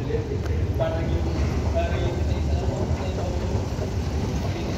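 An underground light rail train in Athens rumbles steadily in an enclosed space, a low continuous roar with faint metallic squeals, while people talk nearby.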